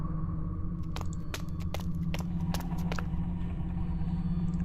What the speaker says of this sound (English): The sound we're hearing is just wind coming from this opening.